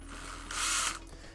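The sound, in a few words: power drill spinning a 1000 grit sanding attachment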